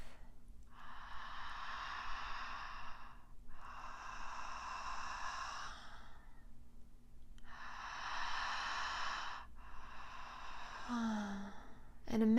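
Connected breathing exercise heard as four long, steady breath sounds, each lasting about two to three seconds with short gaps between, close and fairly soft, followed by a brief sigh-like voiced exhale at the end.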